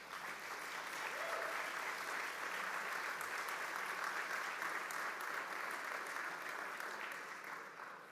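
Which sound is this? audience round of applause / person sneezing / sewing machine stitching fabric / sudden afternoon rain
audience round of applause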